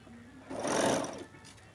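A sewing machine stitches a round collar in a single short burst, a soft rising and falling whir close by, with faint room noise before and after.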